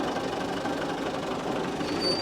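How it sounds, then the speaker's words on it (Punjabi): Tractor engine running nearby on a farm, a steady knocking diesel chug that stays constant and moderately loud throughout. "ਇਹ ਟਰੈਕਟਰ ਇੱਧਰ ਨਹੀਂ ਆਣਾ"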